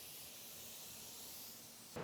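A car paint spray gun set around 27 PSI hisses steadily while laying a coat of paint on a car door in a spray booth, a continuous close airy spray that cuts off abruptly at the end.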